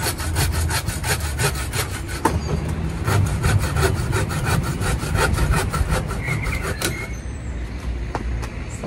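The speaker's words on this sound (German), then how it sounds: "Da, wo ich nicht weiterkomme mit der Astschere, da muss ich natürlich die gute alte Säge nehmen." A hand saw rasps steadily through tree branches in quick back-and-forth strokes, close and loud, easing off near the end.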